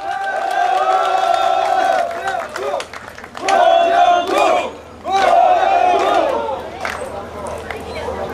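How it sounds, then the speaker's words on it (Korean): A large crowd at an outdoor election campaign rally in Angang, South Korea, roars with chanting and cheering in loud surges, swelling and dropping several times with brief pauses between waves. "큰 박수 한번 부탁드립니다"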